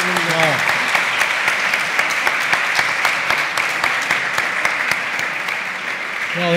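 Sustained applause from an audience, a dense steady patter of many hands clapping throughout.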